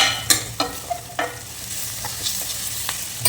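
Curry leaves sizzle in hot oil for chicken gravy, a steady close frying hiss broken by several sharp stirring clinks and scrapes of a spoon against the pan, spaced unevenly.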